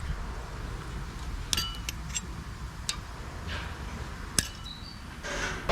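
Metal brake hardware clips are pried off the front brakes of a Ford Fiesta, giving sharp scattered clicks and light metallic taps over a low background rumble, with no talking.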